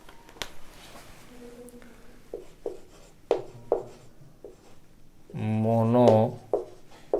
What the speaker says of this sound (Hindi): थोड़ा सा इसे नीचे लिख देते हैं ताकि इसको लिखना आसान रहे।